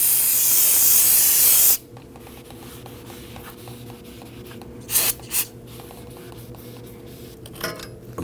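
Spray cleaner blasts loudly onto a Volvo XC60 front brake rotor in one long hiss, then stops, followed by quieter scraping and a few short spritzes in a garage.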